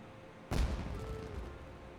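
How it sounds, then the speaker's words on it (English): A single booming firework blast goes off in the video game Genshin Impact, a sharp sudden onset followed by a rumbling, crackling tail that lingers at moderate level. "Was that an explosion? It sounded like fireworks."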